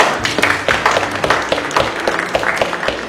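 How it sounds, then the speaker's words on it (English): Lively audience applause at a chess panel night in Gibraltar welcoming grandmaster Nigel Short, many hands clapping in a dense, loud, sustained patter. "so a round of applause for Nigel, please"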